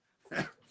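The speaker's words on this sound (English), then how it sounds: "That's my dog." A dog gives a single short, fairly faint bark or yelp, rising quickly and fading within under a second in an otherwise quiet indoor room.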